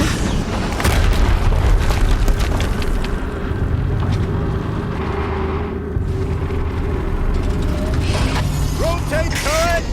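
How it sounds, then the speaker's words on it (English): Turret machinery in Horizon Zero Dawn grinds and ratchets continuously under a dense wash of noise with heavy low rumbling. Sharp clicks break through near the end, followed by a few rising tonal chirps. "Rotate turret!"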